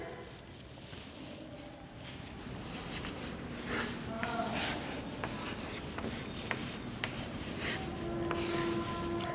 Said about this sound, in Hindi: आइए इसे हम लिखते हैं।